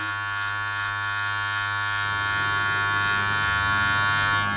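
A cheap Chinese hair clipper hums continuously while cutting a zero line, its close, steady electric buzz thickening slightly in tone partway through as the blades meet hair.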